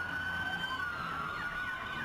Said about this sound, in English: we have a fire truck and we have a police car